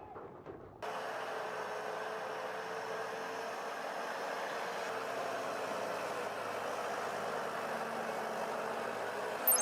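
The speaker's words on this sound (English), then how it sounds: "A Valtra tractor grinds through deep winter mud in a soaked forest, hauling a fully loaded log trailer." A Valtra tractor hauling a fully loaded log trailer through deep winter mud in a soaked forest gives a steady, unbroken engine drone at moderate level throughout, with no voices.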